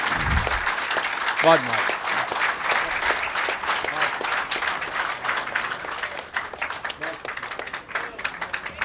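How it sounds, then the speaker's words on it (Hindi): Sustained audience applause closing a literary festival session, dense clapping from a large crowd throughout, with a voice speaking over it partway through. "आप जितनी तालियां आप चाहें बजा लें"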